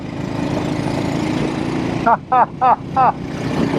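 A 1964 Velocette Venom Veeline Clubman motorcycle engine runs steadily, then gives four short, sharp revving bursts in quick succession as gears are shifted, close and loud.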